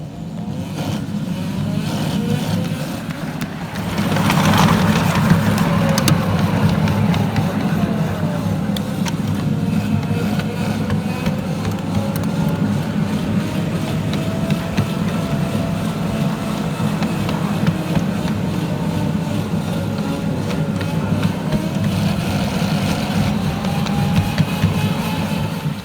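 A model engineering miniature train runs along a ground-level track at a club's outdoor layout, giving a steady close-up motor rumble with faint squealing from the wheels, a swell in loudness early on, and no voices.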